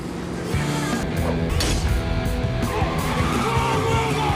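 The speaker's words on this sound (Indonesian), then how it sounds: "tiba-tiba Wayne menghadang minibus itu dengan mobil sport si bos itu sendiri" A sports car skids to a stop to block a minibus in a film scene, a sustained screech of tires over a loud engine, close and continuous.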